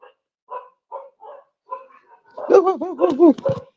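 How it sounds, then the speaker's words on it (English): Dogs bark and whine at people out front of a house during a pool install, a few short yips followed by a louder run of close, excited barks. "there are people out front, so the dogs are going crazy."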